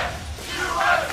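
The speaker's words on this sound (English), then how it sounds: "the crowd chanting USA in the background" Arena crowd at a League of Legends Season 3 World Championship group-stage match chanting USA for the hometown team, a loud, sustained massed roar of voices with rhythmic swells.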